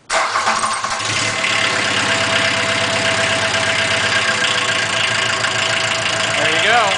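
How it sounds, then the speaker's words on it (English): A 1984 VW Rabbit GTI with a swapped-in diesel engine cranks briefly, catches, and settles into a steady, clattering diesel idle, close and loud. "I'm gonna tap starter"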